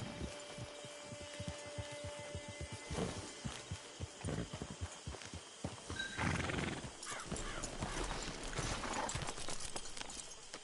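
A horse in a video game whinnies and its hooves clip-clop along, with rustling movement and shifting ambient game sounds around it, fairly quiet overall and with no talking.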